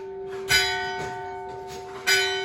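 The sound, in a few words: church bells ringing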